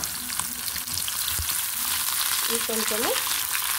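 Steady hissing sizzle of a sambar tempering frying in hot oil, continuous and close, with a brief faint voice speaking over it.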